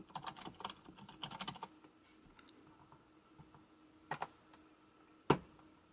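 A username is typed on the keyboard of an HP ElitePad 1000 G2 Atom tablet during a Linux install: a quick cluster of soft key clicks, a pause, then a few isolated taps, close and quiet.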